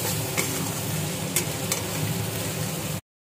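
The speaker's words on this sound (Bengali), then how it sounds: "এখন আমি এটাকে ভালো করে নাড়াচাড়া করে ভাজা ভাজা করে নিব" Garlic and ginger fry in oil in a pan while being stirred, a dense close sizzle with a few sharp scraping knocks of the spoon, all with no talk.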